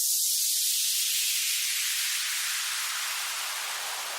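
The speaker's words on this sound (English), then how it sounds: "we want this kind of big effect to kind of come over the top" A big noisy whoosh used as a release effect over a music drop, a loud bright hiss that sweeps downward and slowly thins over about four seconds, heard alone.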